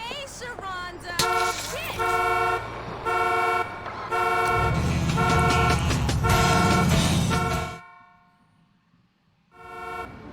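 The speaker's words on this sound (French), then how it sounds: "on est vachement discret avec la voiture qui klaxonne" A car horn in the video game GTA 4 honks in long sustained blasts with brief breaks, loud and close over engine rumble, then cuts off into near silence before another short honk; someone talks over it.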